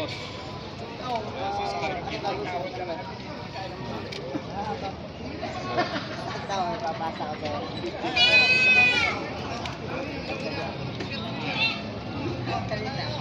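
Goats bleating amid the crowd at a Padre Garcia livestock auction market, one louder bleat standing out near the middle over steady babble of people talking throughout.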